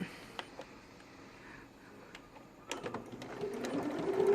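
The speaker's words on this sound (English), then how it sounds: "we're going to sew down that line" Sewing machine stitching down a line on card slot pieces for a wallet pattern, quiet intermittent needle clicks that build into a steadier running whir near the end, close and with no talking.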